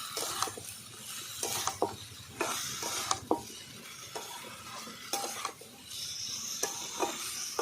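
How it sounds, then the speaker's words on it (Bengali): Chopped tomato and spices being sautéed in a pan: quiet, repeated spatula scrapes and clinks against the metal over a soft, continuous sizzle, with no voices. "আর দেব টমেটো কুচি ভালো করে একসঙ্গে তিন থেকে চার মিনিট আমি একসঙ্গে কষিয়ে নেব ভালো করে"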